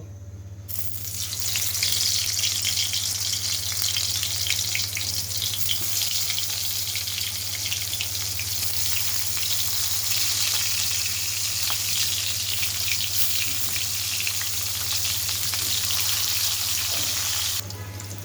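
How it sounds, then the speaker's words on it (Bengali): Eggplant slices fry in oil in a wok, giving a loud, steady, hissing sizzle that holds evenly for most of the stretch before cutting off near the end. "এখন আমি এই তেলের ভিতরে সুন্দরগুলো সুন্দর করে বেগুনগুলো ভেজে নিব"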